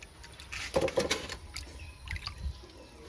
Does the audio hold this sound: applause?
no